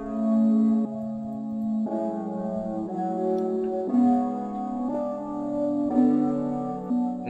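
Dark trap loop with reverb added: sustained dark synth chords changing roughly every second, steady and fairly loud, played alone with no voices.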